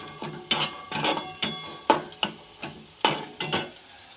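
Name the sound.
almonds and cashews frying in oil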